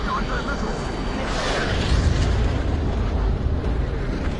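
A missile explosion in the Ace Combat 7 video game, played in VR, rumbles as a broad, muffled boom that swells around the middle of a few seconds of dense, steady combat noise.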